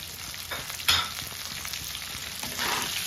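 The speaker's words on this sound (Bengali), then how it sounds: "এখন আমি এটাকে খুব ভালোভাবে ভেজে নিচ্ছি।" Potatoes for aloo dum frying in oil, a close, steady sizzle with a sharp scrape of the spatula near the start and a brief swell of hissing toward the end.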